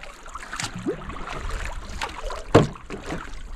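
A sailing kayak moving briskly on open water is paddled, with soft splashing paddle strokes and water swish, one sharper splash standing out, over light wind noise.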